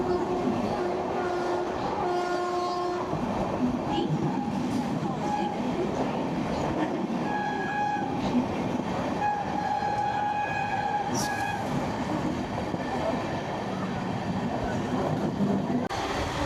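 An LHB-coach express train runs through Dum Dum Junction on the Sealdah–Bandel line, giving a steady, loud rumble of wheels and carriages with a few tonal horn-like notes over the run.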